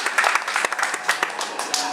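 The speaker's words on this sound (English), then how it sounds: "Give yourselves a round of applause." A small audience at an Epcot storm-simulation attraction gives brief, dense applause, fairly loud and continuous, with some voices mixed in.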